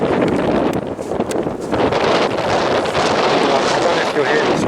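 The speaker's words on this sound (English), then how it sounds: "It's really, really windy." Strong wind buffets the microphone in loud, continuous roaring gusts, with a voice faintly audible beneath the rumble.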